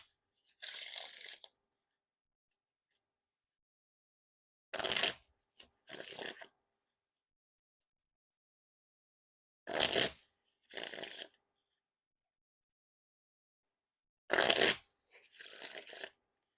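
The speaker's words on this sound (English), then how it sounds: "Now time for the riffle shuffle or bridge shuffle." Theory11 Darren Brown playing cards riffle and bridge shuffled in three pairs of quick, crisp bursts separated by silence, each riffle followed by the soft cascade of the bridge, close and clear with no talking.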